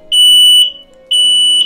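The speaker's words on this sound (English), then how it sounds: "It's a fake fire alarm." An indoor fire alarm blares in two loud, piercing beeping pulses, close and alone.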